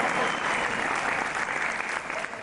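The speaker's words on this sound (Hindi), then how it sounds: "ओ बजा दो तालियां" A burst of clapping from a crowd, steady and dense throughout, fading slightly at the very end.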